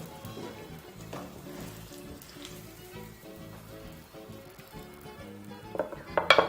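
Eggplant frying in oil makes a soft, steady crackling sizzle under faint background music, ending with a few louder clatters as the slices are lifted from the pan.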